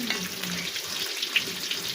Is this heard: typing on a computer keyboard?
no